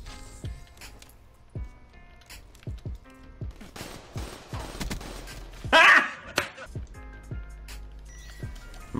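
Gunfire in a one-on-one Call of Duty: Black Ops 3 match, sharp separate shots in uneven bursts, with a louder cluster of shots and impacts near the middle, fairly close.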